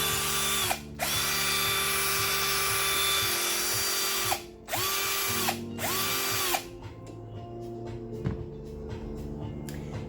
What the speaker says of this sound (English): it offers you a high power 12 volt lightweight drill that you can use in many different settings